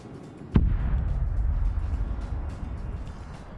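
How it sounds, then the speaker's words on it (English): An airstrike in a military shooter game lands with a sudden sharp blast, then a heavy rumbling boom that rolls on and slowly fades over the next few seconds. "You just had an airstrike land."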